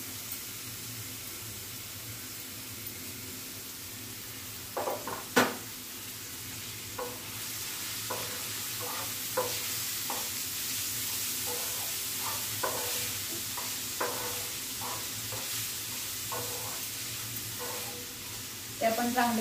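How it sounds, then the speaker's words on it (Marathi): Finely chopped onions sizzle in hot oil in a pan, a soft, constant frying hiss broken by scattered scraping taps of a spoon stirring them. "ते आपण चांगले तेलात परतवून घेऊ। कांदा लाल होईपर्यंत आणि नरम पडेपर्यंत आपण परतून घेऊया याला।"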